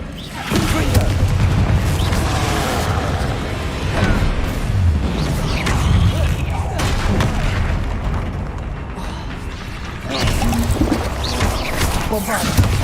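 Confringo fire spell blasts in the Hogwarts Legacy video game, loud dense booming bursts mixed with chaotic combat noise and talk across the whole stretch.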